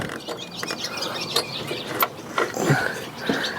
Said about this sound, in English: you could spin the nut pretty easy to get it tight